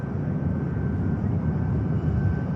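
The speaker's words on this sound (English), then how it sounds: "Flight to Tenerife there on the right, the Ryanair." A Ryanair airliner at Manchester Airport gives off a steady, low, distant jet rumble, unbroken and fairly loud, with no voices over it.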